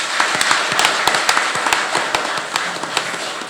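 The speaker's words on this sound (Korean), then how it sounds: "박수 한번 보내주십시오" Audience applause at a Gimcheon mayoral candidate debate: dense, steady clapping from a crowd in a hall, holding at an even level for the whole stretch with scattered sharper claps standing out.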